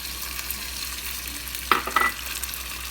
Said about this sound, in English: I'm going to add all the grated ginger.